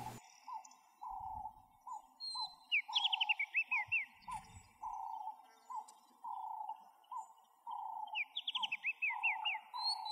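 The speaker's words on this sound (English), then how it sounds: "Famous for its bird life, egrets, herons, painted storks, Indian skimmers," Birds call at a Chambal River nature reserve in India, with a steady series of repeated mid-pitched notes and two quick bursts of higher chirps, fairly close in a quiet setting.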